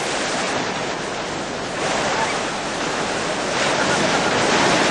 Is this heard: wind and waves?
yes